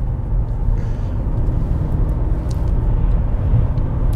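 Mercedes E63 AMG W211 estate with a steady, dense low rumble of engine and road noise, loud and continuous throughout, no voices.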